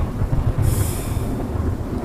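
Train in the game Choo Choo Charles, a continuous low rumbling drone with a brief hissing burst early on, steady and fairly loud, no voices.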